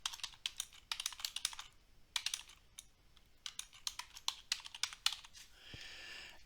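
Bursts of typing on a computer keyboard while using Excel, with quick clustered keystrokes in several runs separated by short pauses, close and clear with no talking.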